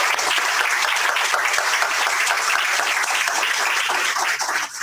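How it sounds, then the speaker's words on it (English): Audience applause for panelists at the opening plenary of an interpreting conference in Washington, D.C., a dense, steady clapping from a large crowd that holds for about five seconds before thinning at the end. "I would ask you to please give them a round of applause"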